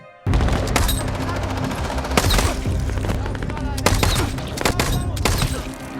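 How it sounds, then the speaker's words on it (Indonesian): An action film gunfight erupts in sustained bursts of automatic gunfire and rapid single shots, loud and dense with sharp cracks layered over a heavy, booming low end. Faint voices are mixed in beneath the gunfire. "terjadi aksi tembak-tembakan"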